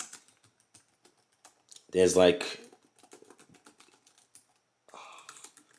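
Rapid clicking keystrokes on a Lenovo Legion Slim 7 (2022) AMD laptop keyboard, close and fairly quiet, with a brief burst of talk in the middle and light typing continuing around it.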